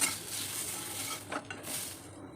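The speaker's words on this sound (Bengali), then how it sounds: "আর এই পটলগুলো ভেজে নিচ্ছি" Pointed gourd (potol) frying in a pan, giving a steady close hiss of sizzling with soft stirring scrapes and a brief utensil clatter partway through.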